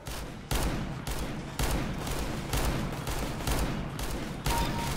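Rapid gunfire from a CS:GO weapon, loud and close, fired in several sustained bursts with short gaps between them and no talking.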